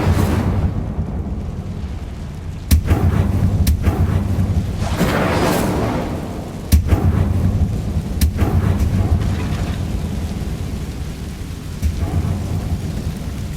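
Incendio fire spell bursting in Hogwarts Legacy, a loud roaring rumble with several sharp cracking bursts spread across a continuous crackling, rain-like wash.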